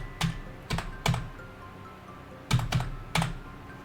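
Computer keyboard arrow keys tapped during a game of Duck Life Space, five short sharp clicks in uneven bursts, close up over a faint steady hum.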